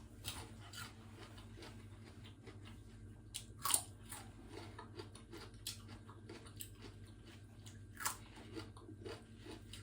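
Crisp bites and crunchy chewing of a fresh radish, scattered sharp crunches over a low steady hum, quiet and close with no talk.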